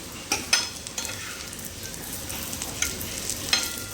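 Stuffed okra, bell peppers and bitter gourd cook in a pan, giving a steady soft sizzle with a few scraping stirs of a spoon, faint and close, with no voices.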